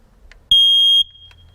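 A household smoke detector alarm gives one loud, steady, high-pitched electronic beep lasting about half a second, alone in a quiet room.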